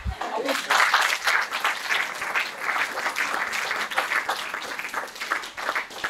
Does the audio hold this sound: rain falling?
no